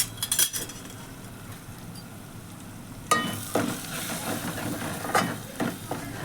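Vegetables sizzle and fry in a pan as garam masala is stirred in, with soft scraping and clinking of a spoon, the sizzle swelling louder partway through with a few sharp stir strokes.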